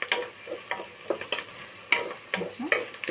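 Curry leaves and onions frying in a pan for a potato spinach curry, with a steady crackling sizzle broken by irregular scraping stirs of the spoon against the pan, close and moderately loud, no voices.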